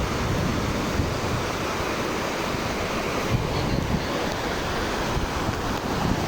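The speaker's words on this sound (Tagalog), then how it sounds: "dito po nanggagaling yung water ng Halagan Falls" Water at Halagan Falls rushes in a steady, loud broadband roar, continuous and unbroken, with some wind buffeting on the microphone.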